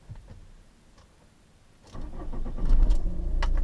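HDi diesel engine with a Bosch EDC15C2 ECU cranks and fires at close range. It catches about halfway through and climbs into a rough, louder idle that runs on steadily to the end.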